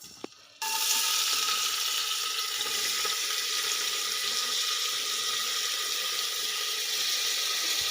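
Onions sizzle in a couple of spoons of hot oil for gongura mutton, a steady hissing fry that begins abruptly after a short quiet moment and continues evenly.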